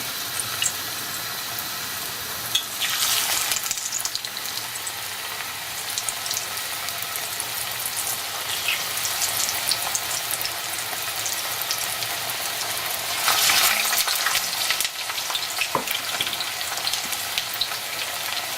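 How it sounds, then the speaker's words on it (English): Plantain slices for patacones deep fry in hot oil, giving a steady close hiss and crackle with a couple of brief louder bursts. "we are going to deep fry these babies and chow down"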